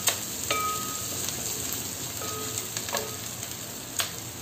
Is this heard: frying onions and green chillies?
yes